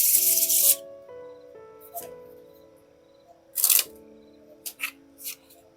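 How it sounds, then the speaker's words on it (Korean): Tarot cards shuffled by hand in several short, crisp bursts of riffling and rubbing, heard close over soft, steady background music. "섞는 소리 한번 들려드릴게요."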